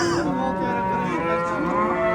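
Cattle at a livestock market moo in one long, loud, close bellow that fills the whole moment, with no talk over it.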